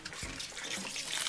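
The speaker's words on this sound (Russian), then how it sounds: "Беру вот эту воду, смесь нашу, проливаю тщательно." Vitamin cocktail water poured carefully over a repotted orchid, a soft continuous trickle and splash close by with no voices.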